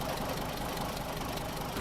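A vehicle engine in a snowy off-road trucking video game, next to a crane and trailer, runs at a steady, loud mid-range idle with a knocking texture and no audible cut-off.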